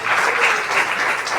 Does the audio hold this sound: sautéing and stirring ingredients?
no